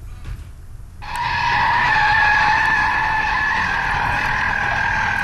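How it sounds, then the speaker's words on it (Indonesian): A loud, sustained screech of skidding tires as a truck with failed brakes drags a minibus along the road near a toll gate, starting abruptly after a second and holding steady for several seconds. "Sebuah mobil terseret truk belasan meter dekat pintu tol Bawen, Jawa Tengah."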